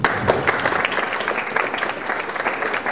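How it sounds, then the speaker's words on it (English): An audience applauds speaker Don Kline with dense, steady clapping from a crowd filling the room throughout, with no talk. "if you could please give a big round of applause to Don Kline"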